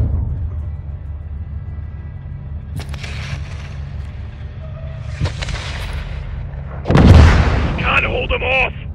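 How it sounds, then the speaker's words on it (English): A rocket explodes in the video game Call of Duty: Modern Warfare II, a loud booming blast late in the clip, preceded by scattered distant impacts over low battlefield rumble. "Oh! Rocket!"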